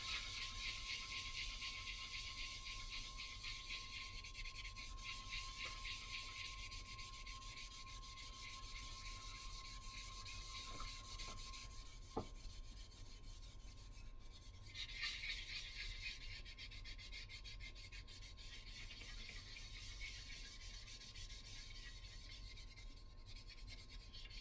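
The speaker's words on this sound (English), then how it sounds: "It's already dry enough to sand." Sanding a thin, freshly dried coat of filler on a model's canopy area: a steady, quiet, continuous rubbing and scraping that goes on without a break, with a faint constant tone in the background.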